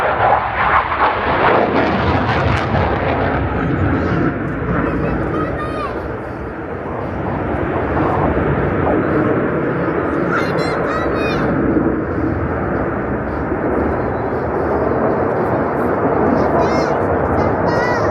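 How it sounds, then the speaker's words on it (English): A fighter jet flies over at the AERO Gatineau-Ottawa air show in Quebec, its loud, steady engine roar filling the whole stretch with a slight dip in the middle, while people's voices sound underneath. "It's just a fighter plane."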